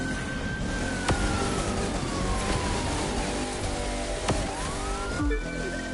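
A police siren in The Crew 2 racing game, chasing a GT500 muscle car, wails in a slow falling tone over steady loud engine and road roar, with a few sharp thuds.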